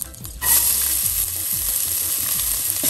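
Finely chopped onion with dried red chili and sliced green chili drops into hot oil in a pan for a yam and spinach stew, bursting into a loud, steady sizzle after a brief quiet start.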